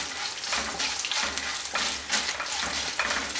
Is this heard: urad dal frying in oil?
yes